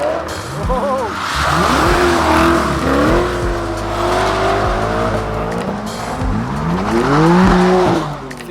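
A McLaren 720S drifts with wavering tire squeal and a revving engine rising and falling over several seconds, loud and close, while a voice talks over it.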